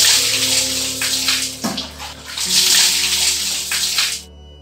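Water gushes from a tap into a bath with a loud, steady hissing splash that swells and dips slightly before stopping abruptly at the end.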